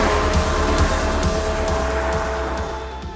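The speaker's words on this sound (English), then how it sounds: "And just listen to it sing." Ferrari 12Cilindri Spider, an 819bhp V12 grand tourer, on the move: a loud, smooth, high-revving twelve-cylinder wail, close and continuous, with a sustained tonal howl that eases slightly toward the end.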